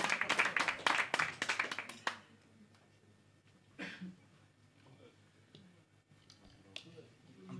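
An audience clapping at an acoustic café concert, a short burst of applause that dies out after about two seconds, followed by quiet room noise with a few scattered claps and clicks.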